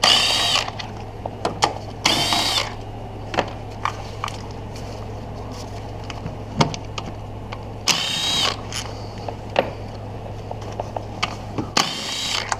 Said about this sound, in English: take your 10 millimeter, unscrew all of the nuts